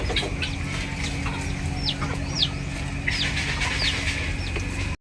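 Hybrid turkeys in a pen give repeated clucks and short rising calls over a steady low mechanical hum.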